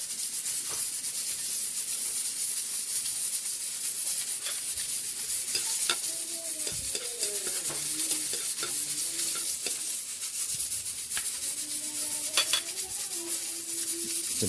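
Garlic sizzles steadily in hot oil in a pan for sautéed upo, a continuous hiss with occasional scrapes and clinks of a utensil stirring against the pan.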